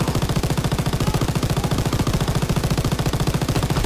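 A mounted machine gun in Call of Duty WWII fires a fast, evenly spaced stream of loud, punchy shots that keeps going without pause from start to finish.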